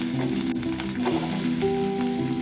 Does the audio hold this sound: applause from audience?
no